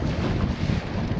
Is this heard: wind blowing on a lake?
yes